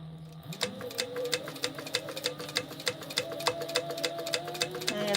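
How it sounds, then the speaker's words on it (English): Close sewing machine stitching colored Velcro to fabric for a hydro pouch, a rapid, even needle clatter repeating in a steady rhythm with a low motor hum underneath, briefly going back and forth. "now I'm just going to sew them together with 1/4 of an inch seam allowance"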